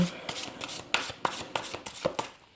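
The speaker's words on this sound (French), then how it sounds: "on va tout de suite tirer une carte de guidance" Tarot cards are shuffled by hand in a quick series of crisp riffling flicks and soft slaps, close and fairly quiet, with uneven rhythm and a few sharper snaps as cards are drawn.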